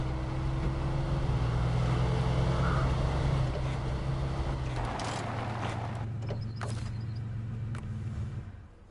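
A truck engine in the video game Snowrunner drones steadily as the vehicle drives, a low hum that shifts pitch partway through and fades at the end, with no talk over it.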